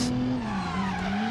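A car drives in the video game Driver: San Francisco, its engine holding a steady mid-pitched drone with a faint tyre squeal and no talk over it.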